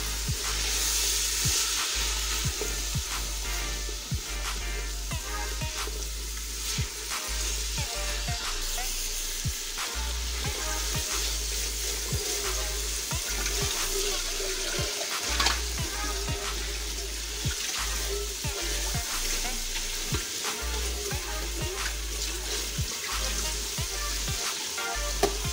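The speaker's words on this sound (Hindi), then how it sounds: "ये चनों को मसाले में अच्छी तरह भूनेंगे।" Chickpeas fry in spices for chana pulao, giving a steady, dense sizzle that runs throughout with occasional stirring scrapes, close and fairly loud.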